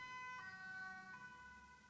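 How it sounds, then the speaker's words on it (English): An ambulance siren wails in a two-tone pattern, one of two ambulances passing at a moderate distance, steady and fairly faint with no talk over it. "oh wow, it's a second ambulance."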